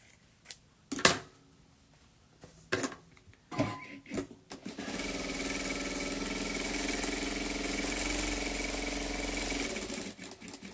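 A sewing machine runs a long gathering seam on a blouse, a steady continuous mechanical whir lasting several seconds after a few scattered handling clicks and knocks, close and fairly loud with no talking.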